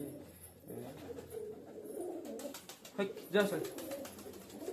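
Pigeons coo softly with low, rolling calls mixed in with nearby chatter and background noise.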